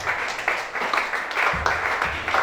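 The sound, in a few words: audience applauding for Chantal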